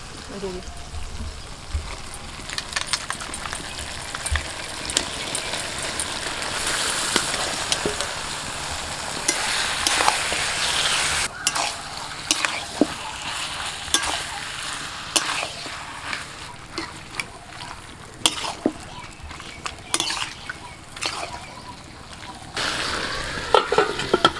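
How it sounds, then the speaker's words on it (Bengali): Spice-coated pieces of desi red rooster meat frying in a pan, with a steady close sizzle and frequent scraping stirs of a spatula throughout. "এখন এর মধ্যে আমি মশলা মাখিয়ে রাখা মাংসটা দিয়ে দিচ্ছি"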